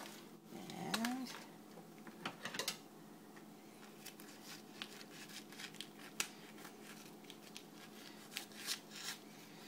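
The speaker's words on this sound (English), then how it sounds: "kitchen scissors come in handy" Kitchen scissors snip repeatedly while cooking pork and sauerkraut for a crockpot meal, making a series of short, crisp clicks and cuts that are fairly close and quiet, with irregular spacing across the stretch.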